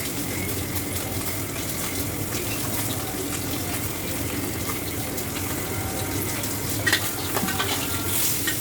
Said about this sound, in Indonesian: buntut ikannya akan saya goreng dulu